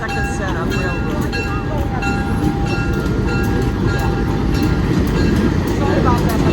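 A train rolls past on the rails during a birthday train ride, a loud, continuous rumble with clattering wheel noise and faint squeals, heard up close and unbroken for the whole stretch.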